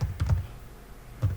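Typing on a computer keyboard, a few quick clusters of soft key taps with a short pause between them, close and faint.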